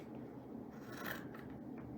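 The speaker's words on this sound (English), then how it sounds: "You're going to take your scissors, you're going to cut about a 1-inch strip" Scissors snip through two layers of fabric, cutting one-inch fringe strips along the bottom of a no-sew tote bag, giving a steady close rasping crunch without talk.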